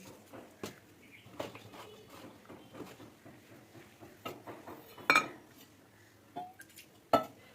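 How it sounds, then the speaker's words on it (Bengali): Flour being mixed with salt and sugar for paratha dough, giving soft scattered scrapes and dull taps against a bowl, with two brighter metallic clinks near the end, close and fairly quiet. "ভালো করে মিশিয়ে নেব"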